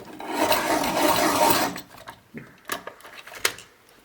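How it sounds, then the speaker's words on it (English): A pencil is sharpened with a steady, close rasping scrape for about a second and a half, followed by a few lighter scratches and taps. "I'm going to sharpen."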